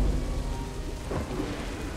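Red storm in the Red Solstice 2: Survivors video game, with continuous heavy rain and a low rolling rumble of thunder that swells briefly midway, steady and loud throughout with no voices.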